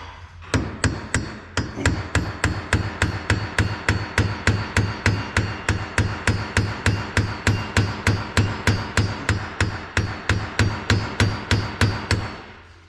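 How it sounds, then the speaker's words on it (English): Rapid, evenly spaced metallic hammer strikes on a punch driving out a roll pin in a differential, around three blows per second, loud and close, continuing steadily for over ten seconds. "I'm gonna go ahead and pound that roll pin out"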